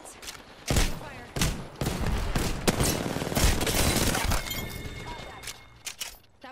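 Gunfire and explosions from the battle royale game Apex Legends fill a dense firefight: repeated sharp loud shots and crashing blasts, with squad voices talking over the action.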